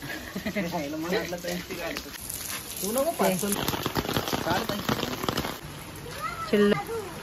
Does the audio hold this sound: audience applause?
no